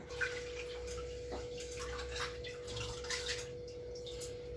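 Soaking water is poured off millet grains, a faint trickle and splash of water against a steady hum in a quiet kitchen, with a few small drips and no talking.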